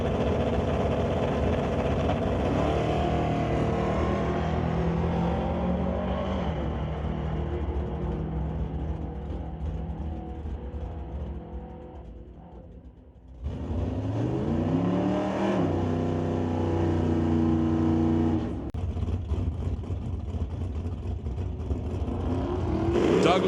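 Drag race cars launch off the line at Mission Raceway Park, engines roaring loud and close with rising revs, then a brief dip before another car blasts off and climbs through its gears, sustained and harsh throughout.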